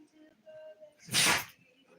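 A single close sneeze bursts out sharply after a moment of quiet room noise, loud and brief.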